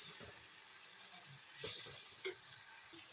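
Onion, tomato, green chilli, ginger and coconut pieces sauté in a pan for a chicken curry, a faint steady sizzle with a brief louder hiss as the mixture is stirred.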